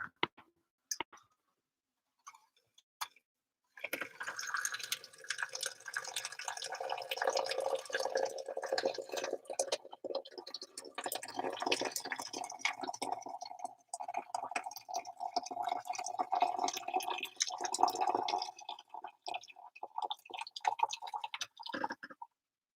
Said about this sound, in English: get this ASMR pouring